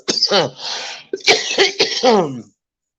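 A few rough, voiced coughs in two quick bursts, close and fairly loud, then silence.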